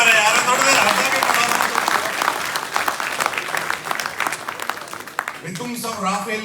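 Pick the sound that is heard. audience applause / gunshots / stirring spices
audience applause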